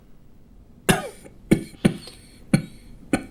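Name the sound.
man coughing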